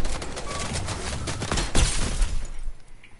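Rapid bursts of gunfire from a video game shootout crackle loud and close, a dense fusillade peaking in a sharp crack before tailing off into quieter background.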